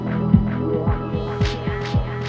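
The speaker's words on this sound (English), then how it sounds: "Obviously that just means the echo lasts for longer" Echo effect with the feedback turned up on a Denon DJ Prime 4 controller, giving a humming, throbbing loop of repeated downward-sweeping thumps that keep trailing on at steady volume.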